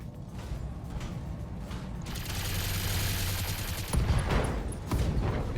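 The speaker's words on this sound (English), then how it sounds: "AC-10 explosion." An AC-10 autocannon blast in the BattleTech video game: a sustained, dense mechanical rumble that swells into a bright, broadband burst of explosion noise, followed by two sharper cracks, loud and close with no talking.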